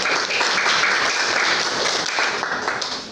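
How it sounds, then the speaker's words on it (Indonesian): A classroom group claps for the first student group in an elementary school lesson, a steady burst of many hands that holds for about three seconds and then tapers slightly, with no talk over it. "kita beri tepuk tangan buat kelompok 1"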